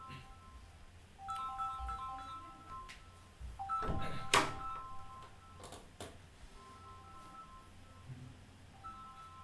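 A telephone ringtone plays a repeating electronic melody during a classroom physics lecture, moderately loud against room noise with a few knocks and clatters.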